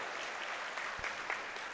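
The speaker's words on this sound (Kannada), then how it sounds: "ಜೋರಾದ ಚಪ್ಪಾಳೆ ಬರಬೇಕು ಈ ಎಲ್ಲ ಮಕ್ಕಳಿಗೆ" Audience clapping after a children's dance drama at a cultural programme, a soft, distant, even patter of many hands with no talking over it.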